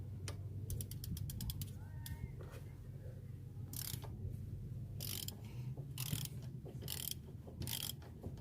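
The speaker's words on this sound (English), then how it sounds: "go ahead and remove these two 12mm fasteners" Ratchet working loose the two long 12mm fasteners on a 2003-2006 Kia Sorento thermostat housing, with quick clicking pawl bursts at the start and then intermittent bursts of clicks against a low mechanical background hum.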